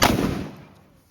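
A mirchi bomb firecracker bursts with one sharp, loud bang that fades quickly into a short echoing tail.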